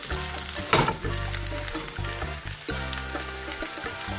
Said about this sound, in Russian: В сковороду наливаю 1-2 столовые ложки растительного масла. Выкладываю сюда подготовленные баклажаны.